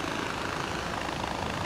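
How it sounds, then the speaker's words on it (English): A helicopter in Far Cry 4 flies with a steady, dense rotor and engine roar that holds constant and close throughout, with no talking. "I'm glad I had a chopper."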